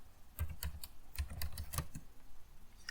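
Typing on a computer keyboard during a coding session: a run of quick, uneven key clicks and thumps, close and clear, with no talking.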